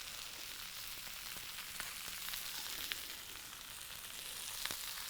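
Spices frying in a hot pan, a steady, fairly quiet hiss and crackle with scattered small pops, no voices.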